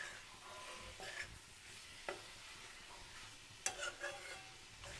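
Cabbage and potato curry with chopped tomato stirred in a pan, with a few sparse, quiet scrapes and knocks over a faint sizzle.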